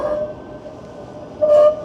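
A train at a busy Toronto transit hub served by UP Express and GO trains sounds a tonal horn twice, a short blast and then a louder one, over low rail rumble with no talking.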